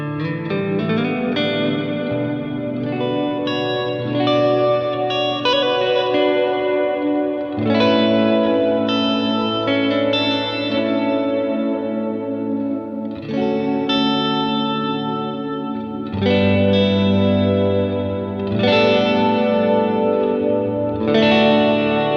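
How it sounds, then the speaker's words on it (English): Ambient electric guitar drenched in cathedral-like reverb, slow sustained chords swelling and washing into one another with long decaying tails, loud and continuous with no voices. "And so now we're gonna introduce a reverb"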